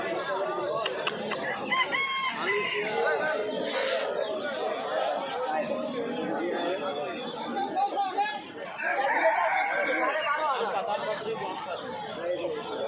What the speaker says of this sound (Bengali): ফাইটার ফাইটার রাতা মুরগি একটা